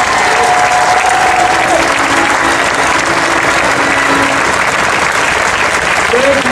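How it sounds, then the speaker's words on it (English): A big crowd at a Colorado Democratic Senate unity rally applauds elected officials, a loud continuous roar of clapping with cheering voices mixed in. "a round of applause for all the elected, talented people that are here."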